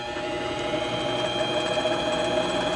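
A drill boring into metal at a marked spot while making a hand engraving tool, a steady whirring motor drone with a high mechanical whine, close and continuous.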